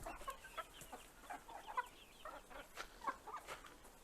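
Three four-to-five-month-old chickens cluck softly and repeatedly nearby, short irregular calls overlapping in a quiet setting.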